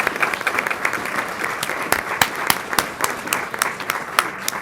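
Audience applause at a school board meeting, a steady wash of many hands clapping at moderate distance, with a few sharper claps standing out and faint voices underneath.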